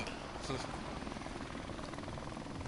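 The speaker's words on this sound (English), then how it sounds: "Okay, helicopter." A helicopter's steady rotor thrum in the video game Modern Warfare Remastered fills the clip, loud and continuous, with speech buried underneath.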